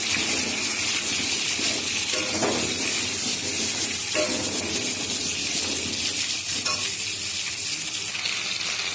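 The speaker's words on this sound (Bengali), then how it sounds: "পটলগুলো ভাজা হয়ে এসছে।" Pointed gourd (potol) fries in hot oil with a loud, continuous sizzle and occasional stirring scrapes, close and unbroken throughout.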